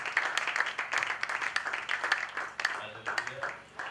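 A church congregation applauds for the Lord, a lively rhythmic clapping that rises and falls in bursts, mixed with voices speaking and singing.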